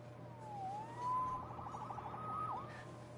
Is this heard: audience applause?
no